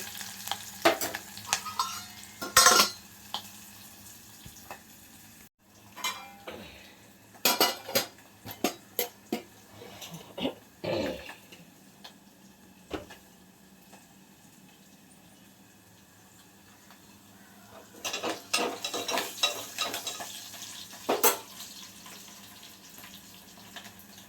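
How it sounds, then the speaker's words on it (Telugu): Dried fish and raw mango curry ingredients fry in a pan. A steady low sizzle runs beneath repeated sharp clinks and scrapes of a spoon stirring against the metal, coming in irregular bursts with quieter stretches between. "ఇవన్నీ కూడా కొంచెం పచ్చివాసన పోయేంత వరకు బాగా వేయించుకోవాలి."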